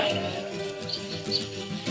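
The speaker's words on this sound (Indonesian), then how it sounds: "Suara burung sudah dipasang sama Bung Gola." Chirping bird calls repeat over a steady, dense background, a recorded birdsong lure played back continuously for bird trapping.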